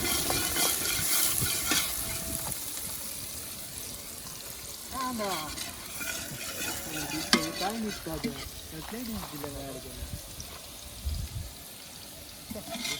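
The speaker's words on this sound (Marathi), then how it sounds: "कांदा टाकलेला आहे तो व्यवस्थित परतून घेऊया" Onion sautéing and being stirred in oil in a pan on a wood-fired chulha at a farm, a steady sizzle with scraping stir strokes throughout, with voices talking over it.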